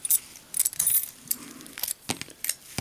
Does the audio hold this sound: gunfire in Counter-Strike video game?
no